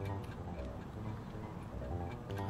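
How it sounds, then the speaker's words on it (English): A clock ticks steadily in the video game Jazzpunk, a soft regular tick-tock under a dense, continuous background of music and ambience. "I hear a clock."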